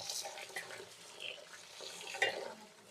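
Water runs and splashes softly as lentils are washed and soaked for bori, with gentle rinsing sounds and a small clink midway, close but quiet; a voice talks lightly underneath.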